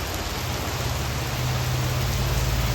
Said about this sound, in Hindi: फुल बारिश हो रही है मस्त एकदम